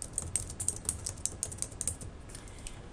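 Fingers type text on a computer keyboard in quick, uneven runs of crisp, close key clicks that thin out toward the end.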